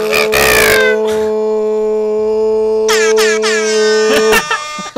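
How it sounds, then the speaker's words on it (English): Loud, sustained air horn blasts in the video game Infamous Second Son: a long steady blaring tone held for several seconds, preceded by a short vocal burst and broken by a brief restart near the end. "Next time on Happy Accidents, more air horn."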